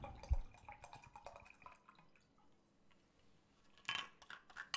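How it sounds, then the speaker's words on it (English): Water poured from a very large water bottle into a cup, a brief dripping, clinking pour with a sharp knock at the start and a louder splash near the end, fairly close with no talk. "That was me pouring my water from my water bottle, which is very large, into a cup"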